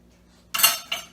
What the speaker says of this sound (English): As I eat out of the frying pan.